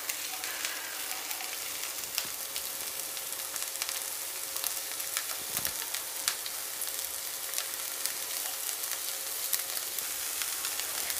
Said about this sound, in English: Let's drop them one by one and saute it till it's a little translucent